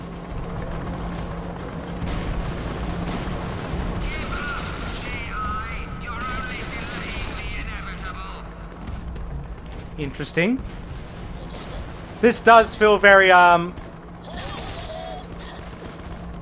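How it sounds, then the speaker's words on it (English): Bursts of rapid helicopter gunfire in the video game Rogue Trooper Redux rattle over a constant droning rotor hum, with a voice talking throughout. "it feels very Metal Gear Solid-esque when you've got this chopper firing at you."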